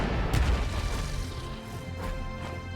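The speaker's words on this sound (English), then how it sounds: "Bring the counter artillery here. Hit that. Hit you with artillery." Heavy artillery blast in the Panzer Corps 2 war game, a loud booming crash at the start, then a rumbling decay and a second fainter impact later.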